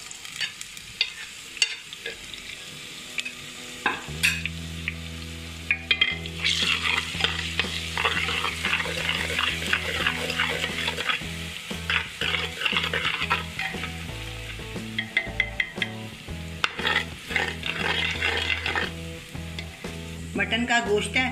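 A spoonful of garlic sizzles and fries in oil in a pan for mutton kunna, with a spoon stirring and scraping at intervals. The frying is loud and close, goes on steadily and has no talk over it.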